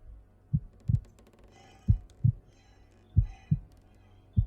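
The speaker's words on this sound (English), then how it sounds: "It was the beating of the old man's heart." A heartbeat effect, a slow steady lub-dub in deep low thumps, paired beats repeating about once a second, close and alone over a faint hum.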